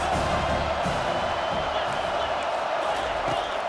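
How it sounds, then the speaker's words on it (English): Steady stadium crowd roar in a college football video game between Miami and UNC, a dense continuous wash of noise at a constant level, with commentary talk faintly underneath. "This crowd trying to make life miserable for this offense"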